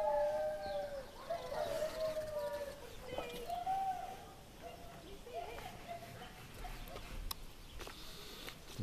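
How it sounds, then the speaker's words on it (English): Wavering, drawn-out howls from singing dogs in a zoo enclosure rise and fall at moderate distance, layered over steady outdoor background noise, with a person speaking intermittently. "That's them singing dogs. They sing just like you."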